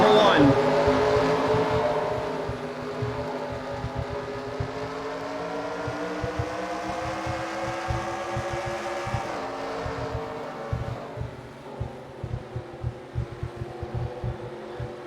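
Modified race cars roar around the Motordrome Speedway oval in a heat race, a loud pack of engines droning and shifting pitch as they pass. Toward the end the sound turns choppier and fades, with a commentator talking over it.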